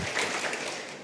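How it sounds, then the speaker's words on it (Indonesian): Brief, steady applause from a congregation during an online Sunday church service, a soft wash of many hands clapping at moderate distance. "Yang setuju berikan tepuk tangan meriah buat Tuhan kita"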